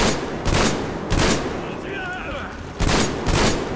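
Gunfire in the video game Metro Exodus sounds as loud, close bursts of rapid shots in several rounds, with a brief lull and a faint voice between volleys.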